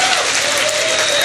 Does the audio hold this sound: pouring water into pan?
no